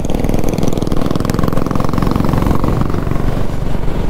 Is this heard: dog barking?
no